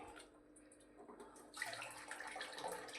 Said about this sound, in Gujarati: આ રીતે નીતર લેવાનું જો આ રીતે પાણી નીતારી દીધું